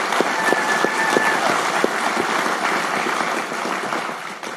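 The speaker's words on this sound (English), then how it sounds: "Round of applause." An audience applauds at an interview event, a steady dense patter of clapping at moderate loudness that eases slightly toward the end.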